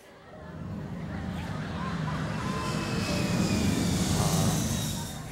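Airplane landing, a broad engine roar that swells gradually and holds loud before easing slightly, with faint crowd babble underneath.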